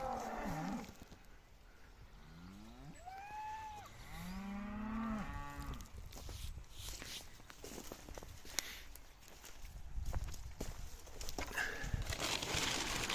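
Cattle moo nearby in a few long, rising and falling calls, followed by shuffling and footstep-like noises outdoors with faint birds.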